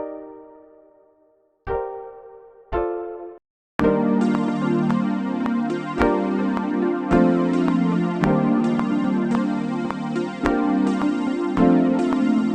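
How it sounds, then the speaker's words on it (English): Chords from the Mystic Plug synth preset in Analog Lab, played on a MIDI keyboard: several sparse sustained chords open, then a denser, continuous layered progression with regular chord changes plays alone. "let's go ahead and play this Mystic Plug sound. It sounds like this."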